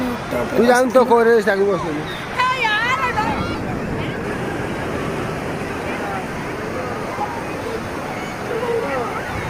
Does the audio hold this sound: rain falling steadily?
no